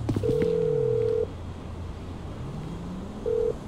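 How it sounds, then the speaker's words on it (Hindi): A mobile phone in GTA V dials to call Molly: one long electronic tone, a pause over a low background hum, then a short second tone. "मैं मॉली को फोन लगा लेता हूं"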